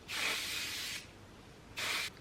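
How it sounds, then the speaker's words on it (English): A Colour Wow hair product is sprayed onto hair in two short hissing bursts, the first about a second long and the second briefer, close and clear with no talking. "then I'm going to spray with the cult favourite from Colour Wow."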